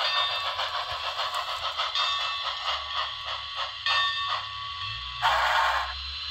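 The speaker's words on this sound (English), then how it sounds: "So it's a great running locomotive here. It sounds pretty good too." A model 611 steam locomotive running on track gives off a rhythmic chuffing clatter with a mechanical whine, steady and close, with a brief louder burst near the end and no talking.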